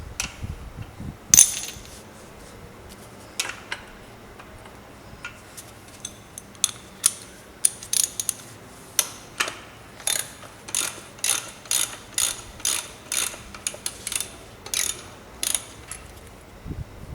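A ratchet tightens the top nut on the rear shock of a 2004 Subaru Impreza GX, with bursts of sharp clicking pawl strokes at a steady, quickening rhythm, close and clear, with a metallic clink early on.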